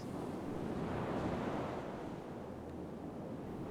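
Ocean surf washes onto a sandy beach, a steady broad roar of waves with a wind-blown hiss, moderately loud and unbroken, with no voices.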